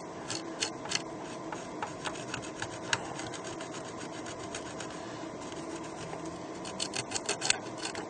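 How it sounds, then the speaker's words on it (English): A cotton bud scrubs corrosion off a Mac Classic logic board, close and quiet, in quick repeated scratchy rubbing strokes that come in bursts over a soft steady hiss. "let's get on with a cotton bud. Let's see if we can get some of this corrosion off."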